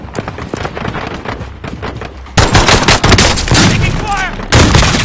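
Sustained heavy gunfire in Modern Warfare, a dense, loud fusillade of overlapping automatic bursts that swells sharply halfway through and stays intense to the end, with no clear talk.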